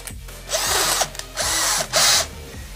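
A power drill bores a dowel hole into a wooden batten, with a depth stop on the bit, in three or four loud whirring bursts separated by short pauses, close up and with no talk.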